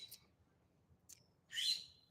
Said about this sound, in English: That's just a bird, so I'm not scared of it.